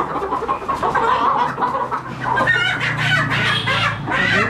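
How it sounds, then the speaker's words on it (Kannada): Salem chickens, a breed resembling country fowl, cluck and call steadily with a farmyard rooster's crow mixed in, several birds overlapping at close range over a constant low background hum. "ಸೇಲಂ ಕೋಳಿ. ಇದು ನಾಟಿ ಕೋಳಿ ಥರನೇ."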